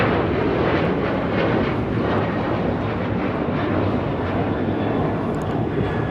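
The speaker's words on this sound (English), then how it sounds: "This is Alaska Airlines 1374 taking off to Loretto on a 737-900ER" An Alaska Airlines Boeing 737-900ER roars on its takeoff run at LAX, a loud, sustained broadband jet rumble that holds steady and fills the whole stretch without any voices.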